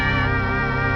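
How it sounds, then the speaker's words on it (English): A soft grand piano and harp layered through a reverb, sustained tonal chords ringing evenly for a short moment, no voices. "we have this really soft piano and harp sound that you hear in the song"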